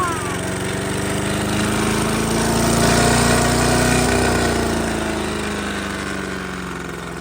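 A small engine recently repaired and cleaned up with a wire wheel runs steadily and loud, a continuous buzzing drone with a slight rise and fall in pitch, close by with no talking.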